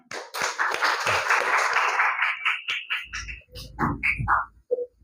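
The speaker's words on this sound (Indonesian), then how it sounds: "tepuk tangan untuk kita semua" A group applauds at a coding and artificial intelligence teacher training session: dense clapping for about two and a half seconds, then thinning into a few scattered claps mixed with voices.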